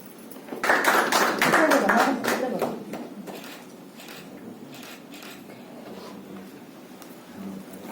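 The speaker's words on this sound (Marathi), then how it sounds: "मनीष दादा यांचं देखील आपण जोरदार टाळ्या वाजवून स्वागत करूया" A short burst of clapping from a group swells for about two seconds, then thins to scattered claps as voices carry on underneath.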